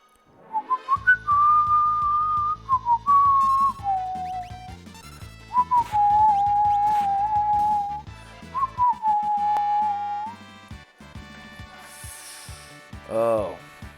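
A person whistles a melody along to Final Fantasy VI game music. The whistled notes are clear and sustained, rising and falling over the soundtrack, and a short vocal sound comes near the end.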